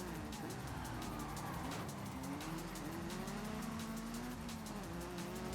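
A car engine in the video game Forza Horizon 5 revs loud and close. Its pitch climbs steadily through the gears, with some tire squeal underneath and no talking.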